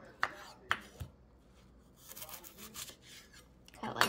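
A knife chops through the woody ends of fresh asparagus on a cutting board in a home kitchen, giving three sharp close knocks in quick succession, then a quieter scraping stretch and one more firm cut at the end.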